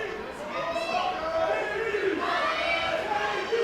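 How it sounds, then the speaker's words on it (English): Wrestling crowd at an ROH match yelling and chanting at Davey Richards, a dense sustained roar of many voices filling the arena without pause. "You hear people in the crowd yelling at Davey."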